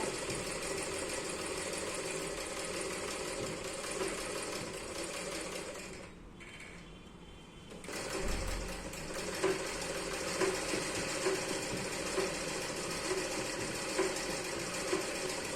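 A sewing machine runs with a steady rhythmic whirr and clatter, close and moderately quiet, pausing for about two seconds midway before starting up again, with no voices.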